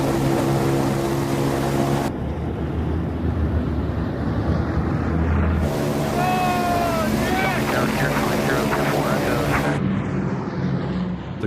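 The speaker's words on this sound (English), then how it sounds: "This is the first for me to fly in a 1940s bomber." Steady, loud engine roar of a 1940s bomber in flight fills the cabin, a dense continuous drone with wind rush and shifting tone in the middle, heard close from inside the aircraft.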